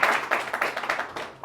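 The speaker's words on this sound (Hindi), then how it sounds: "पहले तो बात सर के लिए भी तालियां हो जाए।" A small group claps in a steady rhythm during a performance management session, each clap distinct and fairly close, about a dozen in quick succession with no talk over them.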